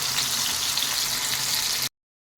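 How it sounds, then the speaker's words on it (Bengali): Mourola fish fry in a pan of hot oil with a dense, steady sizzle close by, lasting under two seconds before cutting abruptly to silence. "মাছগুলি অল্প আছে ভাজবো তো একদিকটা অল্প হয়ে গেছে ভাজা তাই উল্টে নিচ্ছি"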